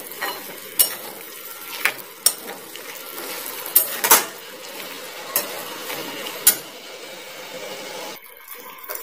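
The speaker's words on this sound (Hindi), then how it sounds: "और अब डालेंगे मटर और इनको चला देंगे थोड़ा।" Peas are tipped into a cooking pan and stirred, with sharp scattered clinks of a spoon against the metal over a soft, low sizzle, ending in a brief quieter moment.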